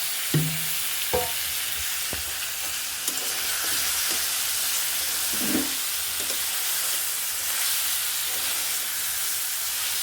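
Hilsa fish pieces sizzling in a pan of cooking masala, a steady hiss with a few clunks and scrapes as pieces are set in and stirred, heard close and without speech.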